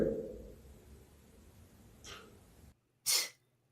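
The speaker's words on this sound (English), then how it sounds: "It's almost like a silent sneeze." A muffled, held-in sneeze-like burst stands out near the end after a quiet stretch, preceded by faint breathy noises in a hushed room.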